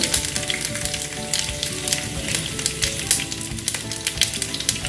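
Cumin seeds and crushed garlic sizzle in hot oil for a methi dal tadka, a loud, dense crackling fry running steadily throughout with sharp spitting pops scattered on top.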